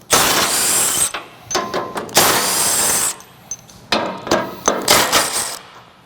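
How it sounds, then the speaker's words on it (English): Ratchet wrench with a 15mm socket working the front bumper bolts of a Ford Bronco, giving bursts of loud, close metallic clicking and rattling with short pauses between turns, and no talking. "We're going to use a 15mm socket and remove the 3 bolts on each side."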